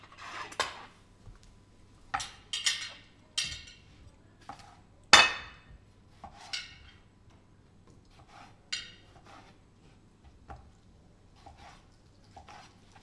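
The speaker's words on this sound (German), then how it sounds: "Während Fuchsi die Fischstäbchen in die Pfanne gibt" Fish fingers go into a frying pan in a home kitchen amid a scatter of light clinks and clatters of pan and utensils, irregular and close, with low background hum and no talk.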